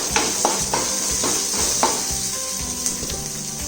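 Onions cooking with salt in a pan while being stirred: a steady close sizzle runs throughout, punctuated by repeated scraping strokes of a spoon against the pan, with no talking.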